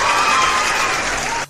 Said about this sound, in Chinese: 让我们用最热烈的掌声和欢呼声欢迎江大的骄傲、大夏的骄傲白龙王十三登场。